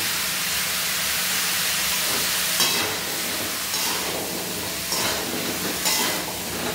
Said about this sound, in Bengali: এটা নাড়িয়ে চাড়িয়ে আবার 2-3 মিনিট একটু তেল বেরোনো অবধি ভেজে নেব হালকা